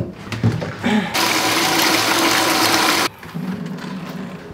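Water is poured over parts of a shower to rinse it. A loud, steady rush of water lasts about two seconds between quieter handling sounds.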